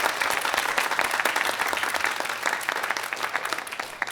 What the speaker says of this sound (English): Applause to them.